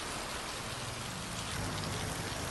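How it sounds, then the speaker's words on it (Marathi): Heavy rain driven by strong winds pours down steadily in Maharashtra near Mumbai, a dense continuous hiss of drops on surfaces with no pauses and no voices. "अनेक भागात सोसाट्याच्या वाऱ्यासह पाऊस बरसलाय"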